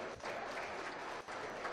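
Faint, steady applause spreads through the stands at a 2024 swine show as showmen leave the ring, a continuous wash of distant clapping with a brief dip.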